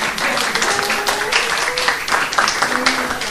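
Audience applause at the presentation of an exhibition, a steady dense wash of clapping lasting throughout with a few voices mixed in.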